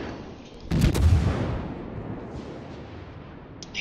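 Naval gunfire from warships in World of Warships, a heavy booming salvo bursting out loud and close, then a long rumbling decay.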